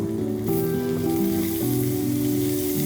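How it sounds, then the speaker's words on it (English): Blanched broccoli dropped into a hot pan for a steak-and-potatoes dinner, bursting into loud, steady sizzling and frying that swells as the florets land and keeps crackling throughout. "Okay, so I'm going to put the broccoli now."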